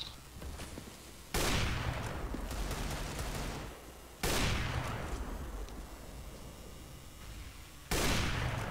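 Rapid gunfire in Counter-Strike: Global Offensive crackles continuously, with three loud bursts of shots standing out over a dense background of distant firing, no voices.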